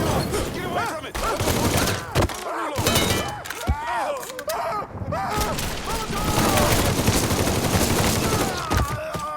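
Dense bursts of gunfire from the video game Mafia 3, rapid overlapping shots and booms filling the whole stretch, loud and close, with shouting voices mixed in.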